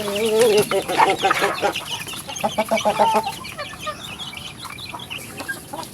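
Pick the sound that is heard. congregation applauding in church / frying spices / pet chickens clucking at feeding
pet chickens clucking at feeding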